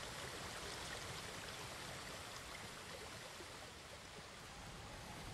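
A video game waterfall roars as a steady, broadband rush of falling water, constant and fairly soft, with no voices over it.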